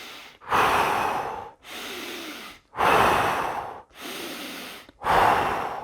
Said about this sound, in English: Hands on the center of the chest. Just start breathing.